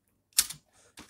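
A few sharp clicks of computer keyboard keys tapped while entering numbers into an Excel spreadsheet, one louder cluster and then two softer taps, close and dry.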